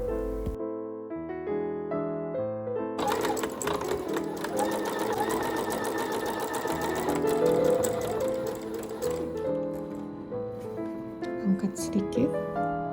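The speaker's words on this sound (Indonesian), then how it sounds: "Jahit sekali lagi agar kerutan yang dihasilkan bisa rata." A sewing machine runs steadily, stitching a loose gathering seam on a garment sleeve. After a short quiet start it whirs continuously at close range, with tonal background sounds mixed in.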